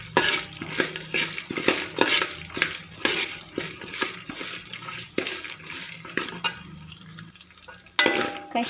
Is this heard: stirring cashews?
yes